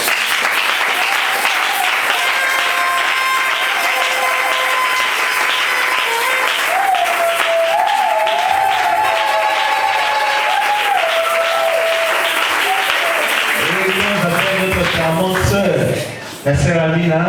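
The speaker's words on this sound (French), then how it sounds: "qu'on acclame pour le Seigneur" Church youth concert audience applauding and cheering for the Lord, sustained loud clapping from a large crowd with a voice speaking over it and music tones sliding beneath, fading into speech near the end.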